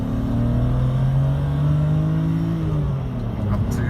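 A 1993 BMW M5 engine revs up to 7,000 RPM and then eases off, a loud, close, sustained mechanical drone whose pitch climbs steadily before sliding back down.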